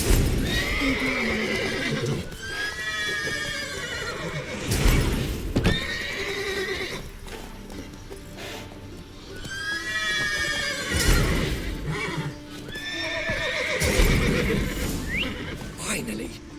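Horses in The Witcher 3 neigh and whinny repeatedly in loud bursts over clopping hooves and game ambience, while a voice talks throughout.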